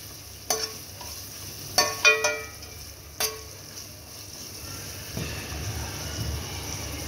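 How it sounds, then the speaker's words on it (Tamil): Tomatoes and vegetables sautéing for a veg biryani, a low steady sizzle in the pan broken by several sharp clanks and scrapes of a spoon against the vessel, the stirring sounds close and clear with no talking. "இதை நம்ம லைட்டாக ஒரு வாட்டி வதக்கிட்டு மற்ற எல்லா வெஜிடபிள்ஸையும் 1 by 1 அப்படியே ஆட் பண்ணிடலாம்"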